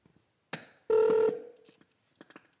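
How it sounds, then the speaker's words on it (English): A phone call placed through an Android tablet carputer stereo in a Corvette: a short electronic tone, then a louder sustained dial beep that fades, followed by faint scattered clicks and blips. "So let me go ahead and make a phone call here."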